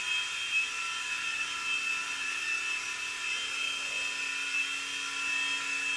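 A Blade mCX remote-control model helicopter hovers and flies nearby, its small rotor and motor giving a steady high-pitched whine with slight throttle wavering throughout.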